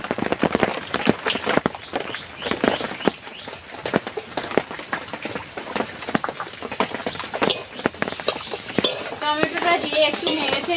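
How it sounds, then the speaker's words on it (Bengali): A spoon scrapes and clinks rapidly against a pan as potatoes and chopped tomatoes are stirred while frying, a busy close rattle throughout, with a sizzle growing toward the end. "টমেটোটা দিয়ে একটু নেড়ে চেড়ে নেব।"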